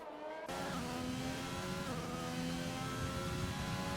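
McLaren Formula 1 car in a racing game, a steady high-pitched engine whine holding at speed for several seconds, alone and fairly close.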